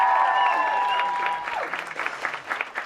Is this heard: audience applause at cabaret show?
yes